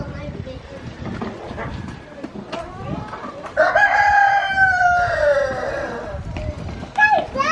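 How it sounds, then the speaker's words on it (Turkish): A rooster crows loudly and close by in a long harmonic call, followed later by a shorter crow, with people talking in the background. "Horoz ötüyor."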